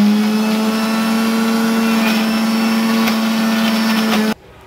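A mixer grinder grinds mint and coriander chutney with a loud, steady motor whine that holds constant for about four seconds before stopping abruptly.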